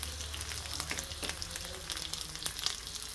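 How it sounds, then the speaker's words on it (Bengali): Chickpeas sautéing with salt and turmeric in a hot pan for a spicy fried chickpea dish, a steady close sizzle with occasional stirring scrapes and pops. "সুন্দর করে আমরা কষা নেব।"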